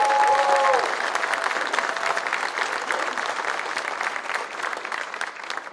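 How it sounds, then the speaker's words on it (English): Audience applause at a hall of fame induction for the East-West Shrine Bowl: a dense, steady clapping crowd, loud at first and slowly tapering, with a brief voice at the start. "Give them a round of applause."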